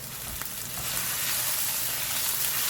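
Cumin and mustard seeds crackle and sizzle in hot oil in a frying pan, a steady, dense hiss with faint pops, close and continuous.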